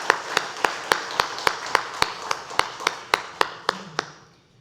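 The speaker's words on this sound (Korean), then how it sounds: "하나님께 영광의 박수 올려드립니다." A church congregation claps in unison during a Sunday worship service, with about fifteen sharp, evenly spaced claps in a steady rhythm that stop abruptly, heard in a reverberant room.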